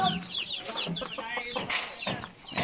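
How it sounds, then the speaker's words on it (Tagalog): Chickens on a farm cluck in quick, close, choppy bursts, with several birds overlapping. A couple of louder squawks rise partway through, against a faint outdoor background. "Mga chicken, ayan."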